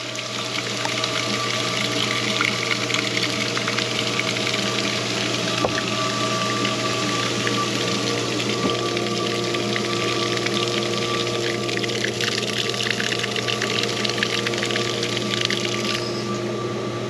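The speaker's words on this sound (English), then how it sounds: "There goes the well pump, kicking on again." A farm well pump runs steadily, pushing water with a constant mechanical hum and rushing, gurgling flow, loud and close, with no talking over the continuous noise.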